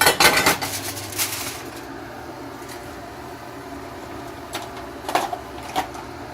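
Dishes and utensils clatter as Puerto Rican picadillo is plated. A cluster of loud clinks comes at the start, then a quieter stretch, then a few more sharp knocks near the end.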